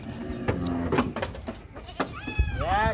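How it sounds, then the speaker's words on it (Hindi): Goats bleat loudly and close by as they are loaded onto a carrier at a farm, with a wavering bleat near the end, amid thumps, shuffling and people talking. "तीसरी बकरी भी अल्हम्दुलिल्लाह लोड हो चुकी है अभी, ये चौथी बकरी"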